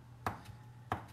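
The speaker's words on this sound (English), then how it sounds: "I'm going to just come in and finely mince the parsley" Knife finely mincing parsley on a cutting board, two distinct close chops about two-thirds of a second apart over a quiet background hum.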